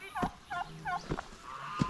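Several short, warbling turkey gobbles repeat at a fairly steady pace, close by, with a faint farmyard background and no talking.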